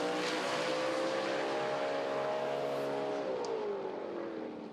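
A Dodge Demon and a Datsun drag race at South Georgia Motorsports Park, their engines joining in a sustained, fairly distant howl that holds steady and then drops in pitch near the end.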